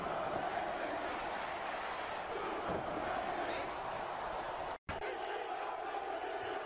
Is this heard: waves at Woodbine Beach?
no